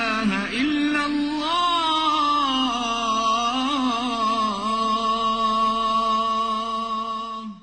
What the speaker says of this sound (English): This is the sound of an Islamic call to prayer.